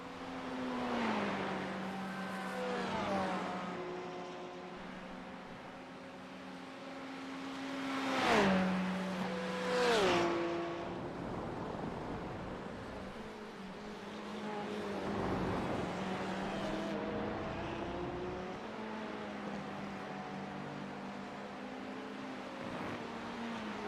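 A GT3 race car at speed on the Road America circuit, engine note rising and falling through gear changes with sharp revving peaks and downshifts, loud and close from onboard, with no talking.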